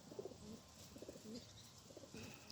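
Pigeons coo softly in a few short repeated low calls, faint and distant, with no talk.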